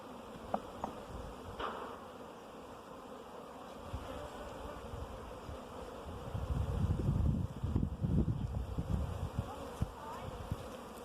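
Honey bees buzzing around an open hive in a community garden, a soft continuous hum with individual bees passing close, swelling louder for a few seconds near the middle.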